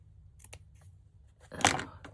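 Scissors snip through a paper decoration while someone trims it straight, with a few faint clicks and then one louder close cut.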